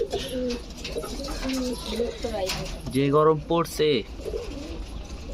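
Pet pigeons in a cage coo in deep, rolling bursts, close by, while a person speaks briefly over them during hot weather.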